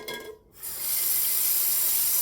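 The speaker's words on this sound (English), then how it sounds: "So you hear that sound? That is the water filling up." Cold tap water pours into a large pot, a loud, steady hiss that starts after a brief gap and keeps rushing close by, with no talk.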